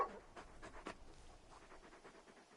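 Torgal, the large wolf-like dog from Final Fantasy XVI, pants in quick, soft rhythmic breaths, quiet and close, with a few stronger puffs early on before settling into steady light panting.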